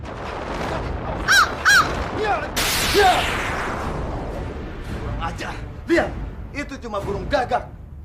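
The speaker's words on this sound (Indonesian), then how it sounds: "gagak." A crow caws twice in quick succession in a TV drama scene, followed by a loud burst and scattered voices of people talking nearby.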